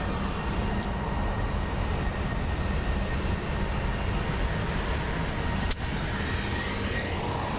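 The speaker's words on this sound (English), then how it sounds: "I think this plane is actually going to have a very steep takeoff" A Frontier Airlines jet climbs steeply on takeoff from Phoenix Sky Harbor on a rainy day, its engines a loud, steady, broadband roar that holds for the whole stretch with no one talking.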